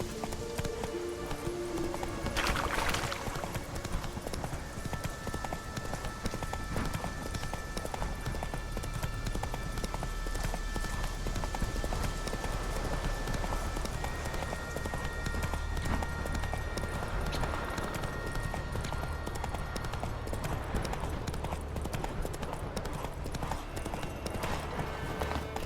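Horse hooves clip-clop at a steady trot in The Witcher 3, a continuous rhythmic clatter over ambient game music and environment, with a brief bright accent early on and no speech.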